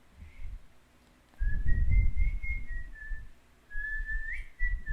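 A person whistles two wavering, sustained notes with a brief gap between them, close by, over low rumbling handling noise.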